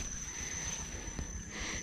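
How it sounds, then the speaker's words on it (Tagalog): Crickets chirping in the early morning outdoors, a faint steady high-pitched trill running throughout over soft ambient background, no talking. "Pagka ganito pong umaga eh, ang maririnig mula yung mga kuliglig."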